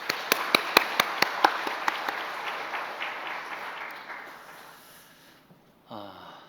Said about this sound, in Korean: 귀한 또 감사의 박수 보내도록 하겠습니다